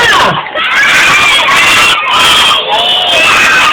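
A large crowd shouts and screams together, loud and sustained for the whole stretch, with brief dips before surging again.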